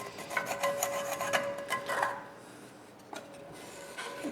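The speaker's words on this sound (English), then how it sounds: "And it's all scraping off quite nicely." Serrated scraper working stuck-on residue off a cast iron skillet, a close, raspy scraping in uneven strokes that fades to a lull before resuming briefly.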